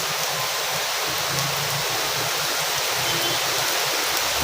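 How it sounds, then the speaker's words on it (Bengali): Heavy rain pours down outside in a dense, even, unbroken rush, loud and steady throughout with no voices. "এখন জোরে বৃষ্টি হচ্ছে"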